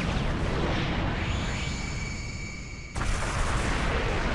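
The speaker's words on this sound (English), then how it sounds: "Damn, look at that big explosion." A big explosion erupts in the video game Naruto Shippuden Ultimate Ninja Storm 4. A loud, sustained roaring blast fills the clip, easing briefly, then surging again with a sharp renewed burst near the end.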